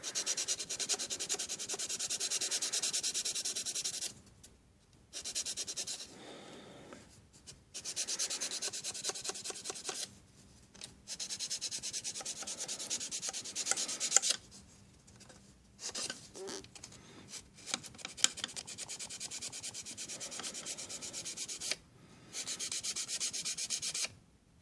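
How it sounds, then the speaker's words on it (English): A sanding stick rubs back and forth across the plastic of a scale model's cut-out fender wells, making close, rapid scratchy strokes in bursts separated by short pauses, with no talking. "Just take my sanding stick."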